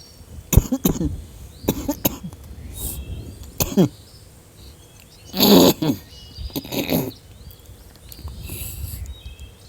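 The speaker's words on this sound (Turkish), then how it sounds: "öksürük tuttu beni" Someone coughs repeatedly in short dry bursts, several separate coughing fits spread across a quiet background, close and fairly loud.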